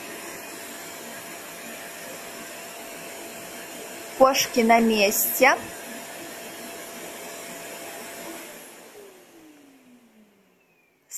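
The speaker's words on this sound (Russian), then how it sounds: "по-моему, громковато, но тише моих предыдущих пылесосов" A Bosch BGS 62530 ProPowerPlus Relaxx bagless vacuum cleaner runs at maximum power with a steady, airy whooshing roar. A person speaks briefly partway through, then the motor winds down and fades to silence.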